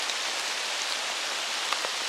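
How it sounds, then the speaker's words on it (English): Steady rain pours outdoors in Ohio hill country, a dense, even hiss that holds at a constant level throughout with no voices. "The rain's subsiding a little bit."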